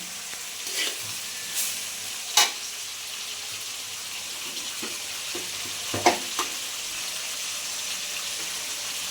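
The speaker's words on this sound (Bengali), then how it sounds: "এবারে মশলার গন্ধ যাওয়া পর্যন্ত আমি আরও ভাজবো" Spices fry quietly in a pan for bhuna khichuri, a soft steady sizzle broken by a few sharp clinks and scrapes of a spoon against the pan.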